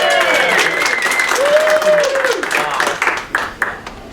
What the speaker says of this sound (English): You have to applaud him